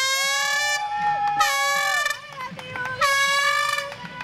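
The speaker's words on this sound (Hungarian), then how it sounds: "10 órakor megszólalt a rajtot jelző kürt, és elindult a verseny." At the start of a community running race, a loud air horn blasts in three long, overlapping tones, with crowd noise and voices faintly underneath.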